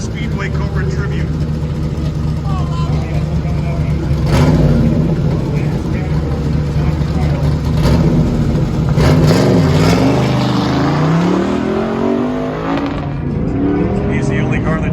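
A 1972 Corvette with a 355 small block engine races an autocross track, its loud engine revving and shifting continuously with passing surges, under an announcer's commentary.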